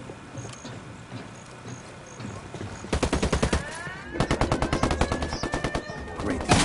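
Rapid bursts of automatic gunfire from the video game Ghost Recon Wildlands: two loud, sharp sequences of closely spaced shots, the first lasting about a second and the second running several seconds, over a steady game background.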